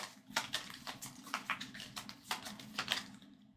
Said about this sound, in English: And then shuffle these in.